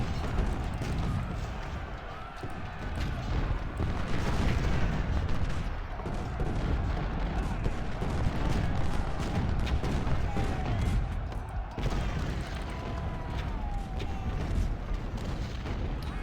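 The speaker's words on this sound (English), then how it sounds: "We're gonna focus our rifled artillery on his artillery." Rifled artillery booms repeatedly in Ultimate General: Civil War at the Battle of Stones River, Murfreesboro, forming a dense, continuous roar of distant cannon fire and battle noise.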